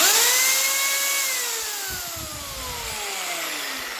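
A Parkside PSBM 1100 B1 two-speed hammer drill runs at speed 2, a loud steady whine with pitch sliding down as it slows slightly, then holding with faint rattling.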